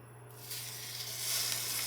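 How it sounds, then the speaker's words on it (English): Beef short ribs sear in very hot oil in a pan for braising, a steady broad sizzle that swells after a quiet first half-second and grows slightly louder toward the end, with a low constant hum underneath. "Now we should be ready to get a nice dark sear on all 6 sides of each"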